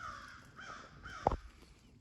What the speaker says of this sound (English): There's a crow right over where that vocal came from.